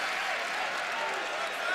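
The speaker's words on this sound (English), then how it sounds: "the adulation of the crowd." A basketball arena crowd at a Michigan vs. Michigan State game applauds and cheers a player, a broad, continuous roar of clapping and voices heard from within the stands at steady, moderate loudness.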